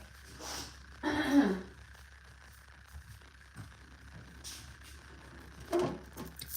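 Someone clears their throat twice, with short rough bursts separated by a few seconds of quiet room noise.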